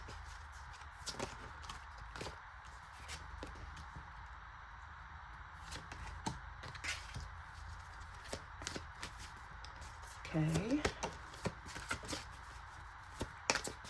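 Repeated soft papery riffling and clicks of tarot cards being shuffled, in uneven bursts close by, with a brief spoken word near the start.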